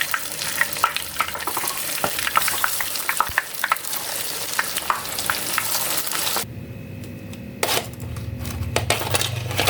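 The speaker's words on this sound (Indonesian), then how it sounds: "Dan goreng semuanya sampai selesai." Tapioca crackers fry in hot oil with a dense, crackling sizzle, and sharp pops and clicks are scattered through it. Partway through, the sizzle suddenly drops to a quieter, steadier hiss.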